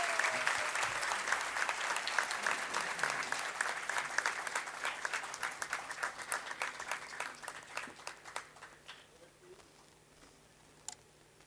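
Sustained audience applause at a degree certificate distribution ceremony, dense and steady clapping that gradually thins into scattered claps and fades out near the end.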